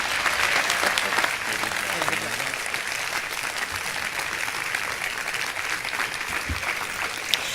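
A crowd applauds steadily and loudly at a Georgia GOP governor debate, a dense wash of clapping that carries on throughout, with a voice briefly heard beneath it.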